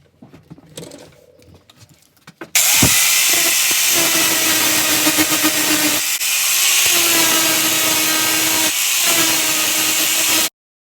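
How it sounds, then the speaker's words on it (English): A power drill bores a hole in metal for a spindle during a scooter engine swap: quiet handling noises first, then a loud, continuous whining grind with a steady motor tone that dips once and stops abruptly. "I'm currently drilling a hole for the spindle to go through."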